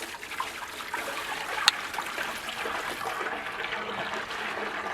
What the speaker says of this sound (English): I'm going to take it and I'm going to slowly pour it into the first area over here.